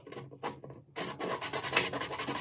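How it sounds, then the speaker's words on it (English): Rough, steady rubbing and rasping of a sanding block on wood, with short strokes at first and then continuous back-and-forth scratching. "Take a little sanding block and"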